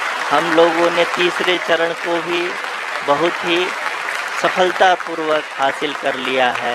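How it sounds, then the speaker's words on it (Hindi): Audience applause breaks out at mission control during the Chandrayaan-3 lunar landing, a steady wash of clapping running beneath a continuous Hindi commentary voice. "आप तालियों के गड़गड़ाहट से सुन सकते हैं"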